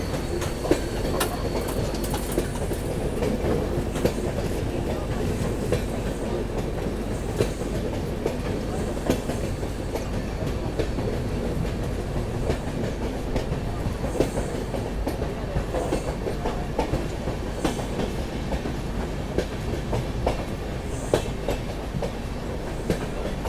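An AC Express passenger train descends a curving ghat section, heard from inside the coach as a continuous loud rumble with steady clickety-clack of wheels over rail joints and occasional metallic squeals, no talking.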